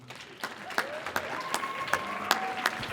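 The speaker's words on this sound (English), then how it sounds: "Just keep clapping, it's going to take her a minute." Scattered audience applause at a community gathering, a handful of distinct nearby claps standing out over softer crowd clapping, with a faint tone and murmur beneath.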